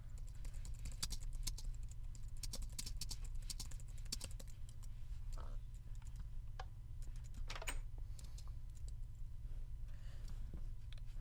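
Rapid typing on a computer keyboard runs steadily throughout, close and moderately loud over a constant low hum, with no voices.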